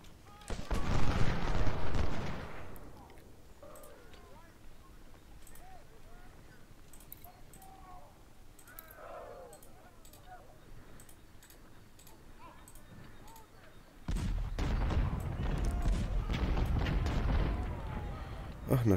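Artillery and gunfire in the Civil War strategy game Ultimate General: Civil War: loud bursts of booming cannon and rattling musket volleys at the start and end, with scattered distant shots and faint battle noise between.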